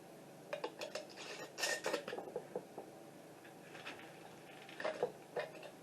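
Glass canning jars being set into a Nesco electric canner, a run of close clinks and knocks of glass on metal in quick bursts, then a pause and a few more clinks, quiet overall and without speech.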